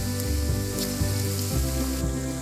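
Battered eggplant fritters (baingan pakora, Punjabi style) sizzle steadily in hot oil, a continuous close crackle with small pops and no talking.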